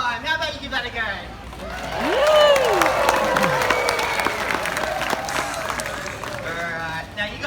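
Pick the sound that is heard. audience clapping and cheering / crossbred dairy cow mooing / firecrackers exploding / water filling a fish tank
audience clapping and cheering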